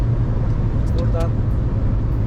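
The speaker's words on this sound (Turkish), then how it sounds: "Burası çünkü arkadaşlar 120'lik yol sesi." A Renault Scenic 2 cruises at about 120 km/h, filling the cabin with a loud, steady low road and tyre roar, with brief higher chirps over it.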